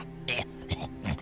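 In Discworld II, a cartoon beggar known for nasty coughs and spits clears his throat and hacks in three short, phlegmy bursts, close and fairly loud.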